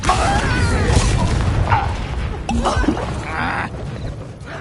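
Booming spell blasts from Confringo in Hogwarts Legacy, a battle scene with several loud explosive bursts and crashes amid continuous magical combat effects, with no talking.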